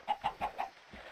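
A video game chicken gives four quick, evenly spaced clucks, followed by a quieter fifth, short and fairly faint in a chicken-farming game.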